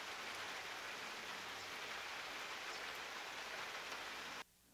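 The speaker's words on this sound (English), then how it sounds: "So let me play the rain sound." Steady, dense rain recording, a broad unbroken hiss of falling drops used as a sound-effect track, loud and even throughout before cutting off abruptly near the end.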